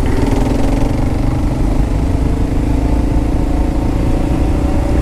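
A Kawasaki KLR 650 big-displacement dirt bike engine running close by, a loud, continuous thumping drone holding steady for the whole stretch.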